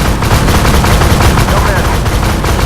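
Loud, dense bursts of tank cannon and gunfire from the Armoured Warfare video game, with the AMX 30B2 Brenus in action, form a continuous close roar of rapid firing with no pause.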